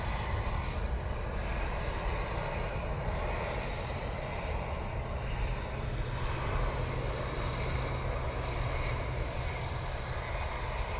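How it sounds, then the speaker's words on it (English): An SAS Embraer jet landing at Manchester Airport, inbound from Copenhagen, gives a loud, steady broadband engine roar with a deep rumble that holds evenly throughout, close by and with no talking. "About touchdown, we have this Embraer for SAS."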